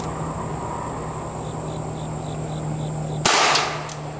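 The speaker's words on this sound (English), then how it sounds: "that bullet sounded really weak" A single weak-sounding pistol shot from an ATI M1911 .45, a short, fairly soft crack over a steady outdoor background of insect chirring and hum.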